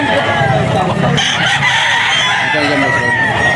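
A Spartan Black stag gamecock crows loudly and close, one long sustained crow that fills the moment, with farmyard hubbub behind it.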